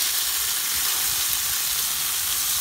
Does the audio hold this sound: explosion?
no